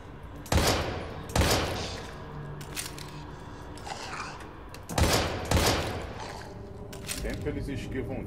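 Gunfire in the survival horror game Daymare 1998: several sharp, loud shots in irregular bursts, separated by quieter stretches of in-game ambience.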